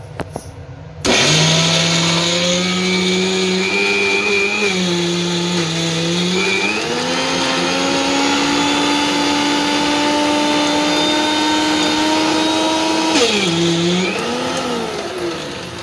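A mixer grinder blends peanuts, sesame seeds and jaggery. After a brief quiet start, a loud, steady motor whine runs for about fourteen seconds, its pitch dipping and rising as the load shifts, then slows near the end.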